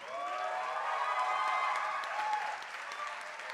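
A crowd at a band competition heat in Iceland breaks into sustained, dense applause with some cheering, loud and steady for a few seconds, then thinning slightly toward the end.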